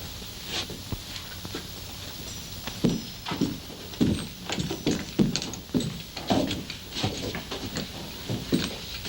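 Horse hooves clip-clop in an uneven, clattering rhythm, fairly close, with faint background noise and no speech.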